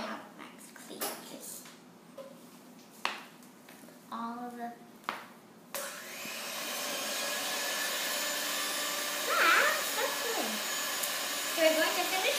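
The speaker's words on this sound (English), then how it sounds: "So now we're going to bring this over to our mixer, and Lola is going to help us mix this." Electric hand mixer whipping buttercream frosting in a home kitchen, a steady motor whir that starts partway through and runs continuously to the end, with brief speech and kitchen clatter before it.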